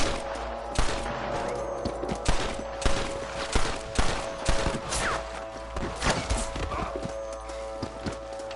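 Gunfire in the video game Red Dead Redemption, sharp repeated shots crackling over galloping horse hooves and occasional whinnies, a busy, fairly loud mix with shouted voices under it.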